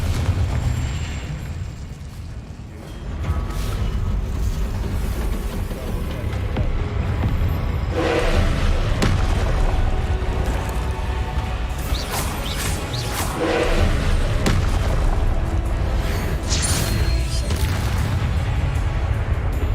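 In the Hogwarts Legacy video game, the Confringo explosive spell and other spell effects burst out as heavy booming blasts and crashing impacts, loud and continuous with swelling rumbles between them.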